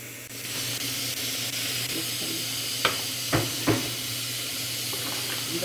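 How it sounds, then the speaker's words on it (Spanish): Pork huaxmole sauce with dried guaje and chile simmers in a pot with a steady bubbling hiss, and a few sharp knocks of a spoon or lid sound near the middle. "la salsa ya está hirviendo, ya huele muy rico."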